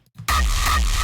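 A heavily distorted hardcore kick drum, clipped to the extreme, slams in after a brief near-silence and then holds as a loud, saturated, continuous roar with booming low end and buzzy harsh overtones, no talking.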